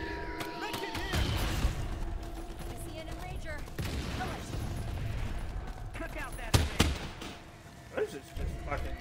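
Rapid gunfire in the co-op alien shooter Earthfall on Xbox One, with bursts and scattered shots through the whole stretch, loudest near the end, while players talk over it.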